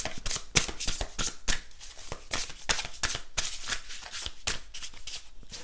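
Tarot cards shuffled by hand during a reading: rapid, crisp riffling and slapping of cards in close, steady bursts, with no talk over them.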